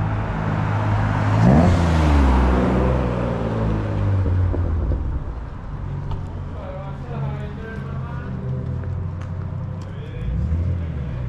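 JDM cars, including a Honda and a Nissan 350Z, rolling in one after another at a Santa Pod Japanese car show, engines rising and passing nearby as someone talks over the convoy.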